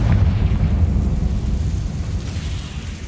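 Confringo blasting spell explosion in the Hogwarts Legacy video game, a loud, sustained low rumbling blast that stays dense and heavy for about three seconds before easing slightly.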